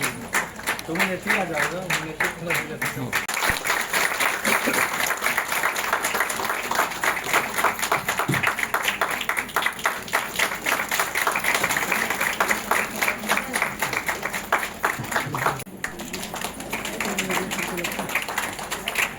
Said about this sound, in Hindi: सम्मान की कड़ी को तालियों की आवाज इतनी हो कि हमारा सभा की गूंज उठे।